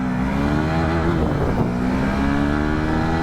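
A Bajaj Pulsar N160 motorcycle accelerating up through the gears, its engine a loud, continuous close drone that rises in pitch with a brief dip at a shift.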